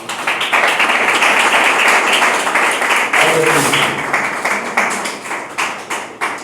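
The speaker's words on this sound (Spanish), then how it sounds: "Den un aplauso al Señor" A church congregation claps in applause to the Lord, close, sharp individual claps, dense at first and thinning into scattered claps, with a voice briefly heard partway through.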